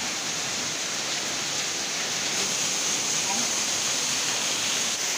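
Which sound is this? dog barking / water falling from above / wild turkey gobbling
water falling from above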